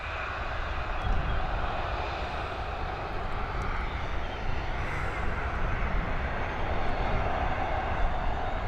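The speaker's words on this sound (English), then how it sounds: "touching down safely onto runway 10R here at Dublin." A passenger airplane touches down on runway 10R at Dublin Airport, its engines a loud, sustained roar heard from a distance that stays fairly steady throughout.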